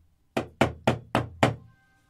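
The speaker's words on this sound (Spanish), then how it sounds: "Al llegar dio unos golpes en la puerta" Five firm knocks on a door, evenly spaced and close, each a sharp thud with a quick decay, followed by silence.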